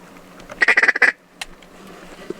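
Several mallard ducks quack in a rapid burst of loud, close calls at a public-land duck hunt, followed by a single later quack and quiet background.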